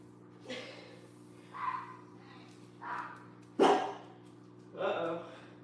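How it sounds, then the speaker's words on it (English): A dog barking out in an apartment breezeway, five separate muffled barks spaced about a second apart, heard indoors over a steady low electrical hum. "The dog out in the breezeway is barking."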